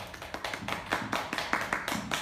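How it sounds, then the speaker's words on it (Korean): An audience at a poetry concert claps in a brief run of quick, crisp hand claps, fairly close and steady in rhythm, with no talk over it. "아유 박수도 쳐주고."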